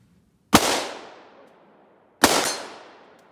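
Two sharp rifle shots, spaced well apart outdoors, each a loud crack with a ringing metallic hit on a steel target and a long fading tail, no talk between them.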